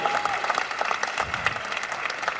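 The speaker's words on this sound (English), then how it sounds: "The Persians, they're clapping." A stand-up comedy crowd breaks into applause, a dense, steady patter of many hands that fills the whole moment at close range, with faint crowd murmur underneath.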